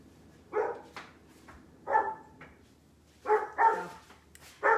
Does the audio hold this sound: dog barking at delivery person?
yes